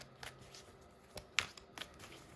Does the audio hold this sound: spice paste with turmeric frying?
no